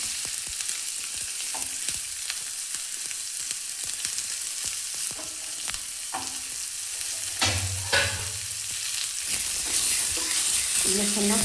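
Chopped onion sizzles with mustard seeds and cumin in hot oil, a continuous crackling fry broken by scraping stirs, with no one speaking.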